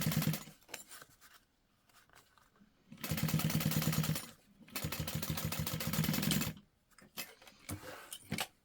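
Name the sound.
sewing machine top-stitching a fabric book cover lining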